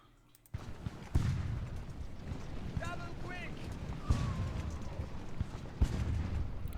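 Friendly gunfire from ships and troops during a raid on Nova Scotia in Ultimate Admiral Age of Sail crackles as a continuous volley, with sharper reports roughly every second or two over a dense battle din and faint voices.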